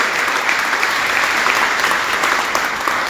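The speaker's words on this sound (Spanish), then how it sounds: "Dale un fuerte aplauso al Señor." Strong, steady applause from a Catholic charismatic congregation during worship, dense clapping filling the whole stretch without a break.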